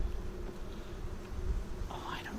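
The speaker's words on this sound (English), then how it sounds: "there's a worker bee right at the entrance, right there." Honeybees buzzing at a beehive entrance during a spring hive inspection, a steady faint insect drone with soft murmured voices in the background.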